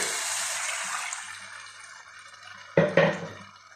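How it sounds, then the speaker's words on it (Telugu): Water poured into a cooking pan over fried masala for an egg and chicken biryani curry, a soft steady liquid wash fading over a few seconds, then two short louder splashes near the end, with no talk. "దీంట్లో మనం మసాలా వేసుకున్నాం కదా వాటర్ వేసేసుకుంటున్నా"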